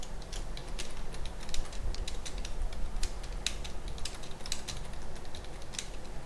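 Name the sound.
typing on a computer keyboard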